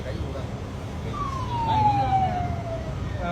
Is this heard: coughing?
no